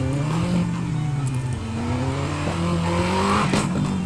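An Aston Martin V12 engine revving in Need for Speed Most Wanted, loud and close, its pitch sliding down and then rising again through several surges without any talk.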